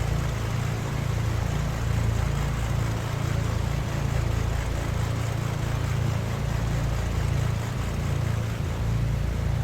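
Black Square Grand Duke twin-engine aircraft taxiing in a flight simulator game, a loud steady low engine drone with a constant rumbling hum throughout and no speech.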